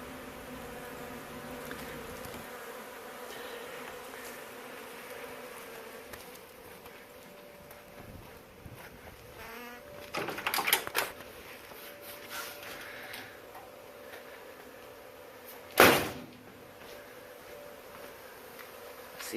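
Honey bees in an aquarium hive make a faint, steady buzzing drone that continues throughout, with occasional rustles and a brief sharp knock near the end.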